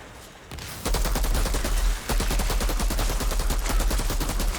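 Freezing-round gunfire in Outriders, loud rapid automatic fire in a sustained machine-gun stream with a brief pause midway.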